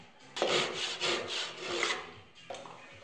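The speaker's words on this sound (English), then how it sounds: "I had to sand the faces flat so I could get a good glue up." Sanding wooden segment faces flat for a segmented wood sculpture glue-up: a series of rasping back-and-forth strokes, close and steady, followed after a short pause by another stroke.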